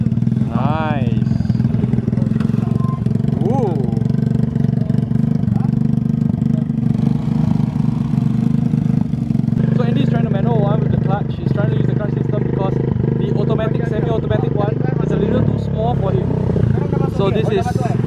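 An automatic dirt bike with no clutch needed for gear changes rides around in a forested area, its engine droning loudly and steadily throughout, with pitch rising and falling as it revs, while people talk over it.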